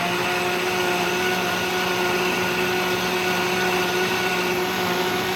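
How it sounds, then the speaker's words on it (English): A blender runs steadily at full speed, mixing a thick, creamy avocado smoothie with a constant loud whirring motor hum and no talk over it. "I can get that whirlpool going in the blender"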